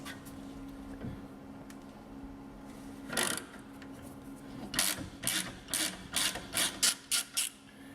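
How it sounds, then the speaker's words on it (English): A 1/2-inch ratchet working on the 18mm brake caliper anchor bolts of a Jeep WJ, first a few isolated clicks, then a quick run of about eight rhythmic ratcheting bursts, close and fairly quiet. "We're going to use a 1/2-inch ratchet to go ahead and remove this piece back here. It is an 18mm on the anchor bolts."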